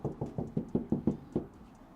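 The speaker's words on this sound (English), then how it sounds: "So I'm going to knock on this door, which hasn't been done" Knuckles rap about eight times in a quick, even rhythm on a Toyota Yaris Cross door that has no soundproofing, each knock close, hollow and fairly loud.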